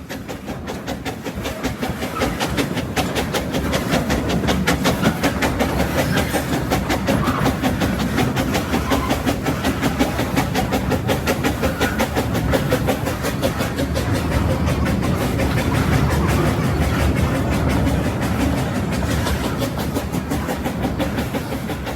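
Puffing Billy, a historic narrow gauge steam railway from 1900, rolls along its rails with a continuous rhythmic clickety-clack and rumble, heard close and loud throughout.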